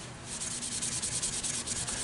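A turned wooden bud vase is being sanded, a soft, steady close rubbing hiss with faint rhythmic pulses from the passes, fairly quiet, with no voices.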